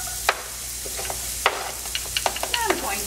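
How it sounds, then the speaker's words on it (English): Chopped onions and garlic hit a teaspoon of hot olive oil in a pan, a soft, continuous sizzle broken by a few sharp crackles and stirring clicks. "I heated it up, and we're ready to add the onions and the garlic."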